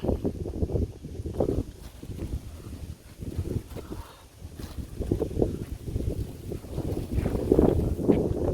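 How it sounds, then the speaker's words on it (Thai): Strong wind with rain buffets the microphone while flying a small Thai Chula kite, gusty low rumbles, steady throughout with surging bursts, loud and close with no one speaking. "แต่ลมแรงไปหน่อยนะครับ"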